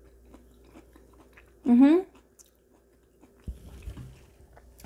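Chewing on roasted zucchini from a vegan lasagna topped with Parmesan-style cheese, a short soft wet bite up close, followed by quiet murmured sounds and faint movement.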